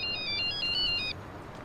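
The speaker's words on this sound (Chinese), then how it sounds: "我手机" A mobile phone plays a short, bright melodic ringtone for about a second, close and clear over quiet room tone, then stops.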